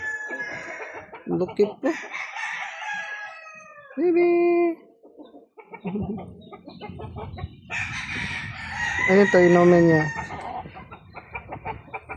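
A chicken clucks repeatedly close by, with a rooster crow rising near the end, while several people chat nearby throughout.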